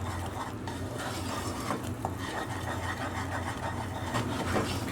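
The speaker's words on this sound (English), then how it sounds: "we're also going to add in 1 teaspoon of baking soda and just stir that through" A spoon stirs baking soda into hot honey syrup for Persian sohan asali, giving a soft, continuous scraping and bubbling at low volume over a faint background hum.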